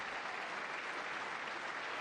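Sustained applause fills a congressional chamber at the 2026 State of the Union after a Medal of Honor award, a dense steady roar of many hands clapping with no pauses throughout.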